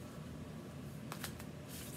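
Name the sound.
shuffling tarot reading cards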